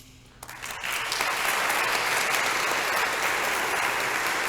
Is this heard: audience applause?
yes